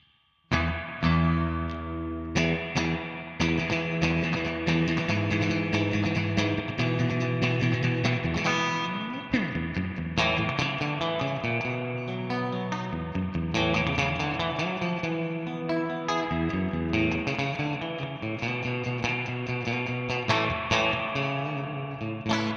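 Surf-style electric guitar played through a Danelectro Spring King spring reverb pedal, with bright picked twangy lines and drippy, splashy reverb tails ringing continuously, close and loud with no talking.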